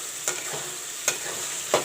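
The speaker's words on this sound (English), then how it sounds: "The tomato has to fry nicely with the ginger garlic paste." Tomato frying with ginger garlic paste for a chicken gravy, with three short stirring scrapes at steady intervals over a soft continuous sizzle in the pan.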